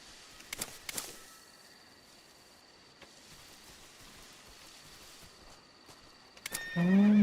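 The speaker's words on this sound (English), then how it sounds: "Un caballo." A horse neighs in the stealth video game Metal Gear Solid Delta: Snake Eater, with a couple of sharp whinny bursts near the start and again near the end over a soft, rain-like ambient bed.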